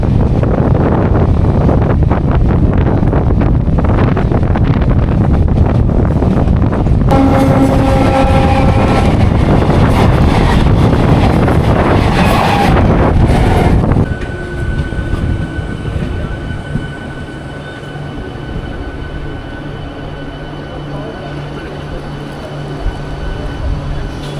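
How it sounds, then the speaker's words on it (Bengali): A passenger train at Tamluk station on the Kolkata–Digha route gives off a loud, continuous rumble with wind buffeting the microphone, then the roar drops to a quieter hum with a faint steady whine and light background noise. "একটু পরেই ট্রেনটা ছেড়ে দেবে"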